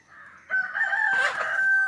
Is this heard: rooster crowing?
yes